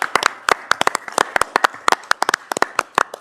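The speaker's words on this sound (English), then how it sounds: "Let's give them all a round of applause." Scattered applause from a small board meeting audience honoring long-serving staff: a handful of people clapping up close, with sharp individual claps in an uneven, sparse rhythm and no talk over it.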